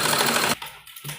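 An electric sewing machine stitches along the edge of a child's kurta, a loud, fast run of needle chatter that stops abruptly and then starts again briefly.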